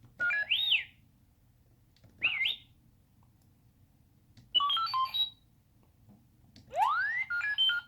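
A 1/6-scale R2-D2 toy robot makes four short bursts of electronic beeps and warbling chirps, separated by pauses, with a rising synthesized whistle at the end; no voices.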